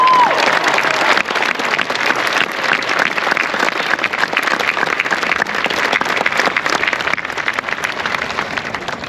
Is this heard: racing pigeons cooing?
no